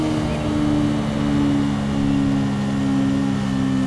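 BMW M1000RR motorcycle exhaust in the Ride 5 racing game, a loud, steady high-revving engine drone that rises and falls slightly throughout.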